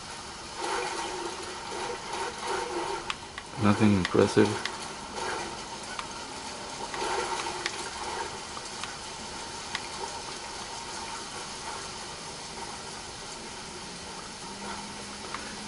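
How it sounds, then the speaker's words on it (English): Water splashing as a character wades through a shallow stream in the video game Ghost Recon Breakpoint, a brief burst of sloshing around the four-second mark over a steady ambient game bed, with a short spoken remark. "Just waddle in the water a little bit."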